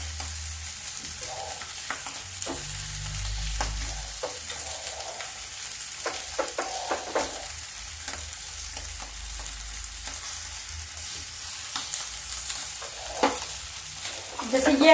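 Sabudana tikki fry in ghee in a pan with a steady, soft sizzle, dotted with scraping and stirring sounds, moderately quiet and close, with no voices.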